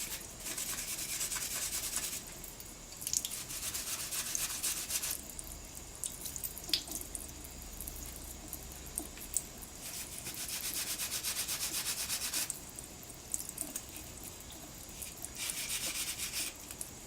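Brass wire brush scrubbing metal jewelry to clean and burnish it before polishing, a close, steady bristly scratching in repeated bursts with brief softer pauses, no talking.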